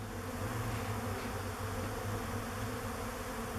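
A steady, dense buzzing of many bees fills the air, continuous and close, with no pauses or voices.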